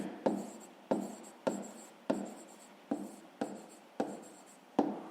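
A pen writing on paper while working a fifth-grade maths exercise, heard as a series of short, evenly spaced scratchy strokes, each starting sharply and trailing off, close and alone.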